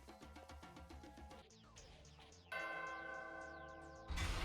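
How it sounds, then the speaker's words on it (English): A bell rings in the Danganronpa video game, with several bright metallic strikes that sweep in pitch over game music. A louder sustained chime swells midway, and a heavier burst of sound closes the moment. "That bell still does not look like something that would sound like that"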